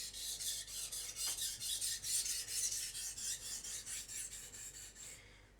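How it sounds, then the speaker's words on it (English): A knife edge is sharpened across its full length, raising a burr: a steady run of rhythmic rasping strokes, about a dozen in quick succession, close and fairly loud, with no talking. "I sharpen until I got a burr on the entire length of the knife"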